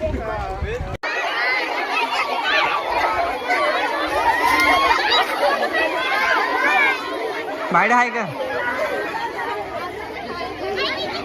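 Dense village crowd at an outdoor song shoot, many voices chattering and overlapping in a steady, loud hubbub with people talking throughout.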